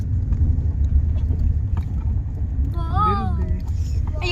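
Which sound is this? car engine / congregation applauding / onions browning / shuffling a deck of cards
car engine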